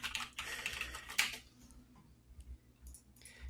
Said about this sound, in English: It's that hacking keyboard